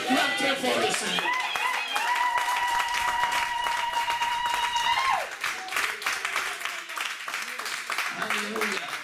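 A church congregation claps and cheers in praise, a loud sustained burst of clapping mixed with voices and sung or shouted tones, continuing under ongoing speech.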